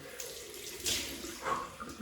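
Cold water runs steadily from a bathroom tap into a sink, a continuous close splashing rush with two brief louder surges.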